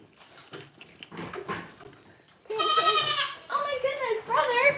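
Goats on a farm bleat loudly and repeatedly up close, with a person talking just before the calls and quieter animal noises mixed in.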